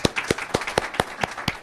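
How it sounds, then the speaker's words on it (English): A few people at a county political forum clap in a sparse, regular rhythm of about eight distinct claps, faint and close, with no cheering. "If we can all give her a round of applause."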